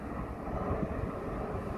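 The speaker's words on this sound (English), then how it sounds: "Oh, we've got another plane coming in." TUI passenger jet flying low overhead on its approach into Tenerife, a steady broad roar holding close and fairly loud outdoors throughout, with no one talking.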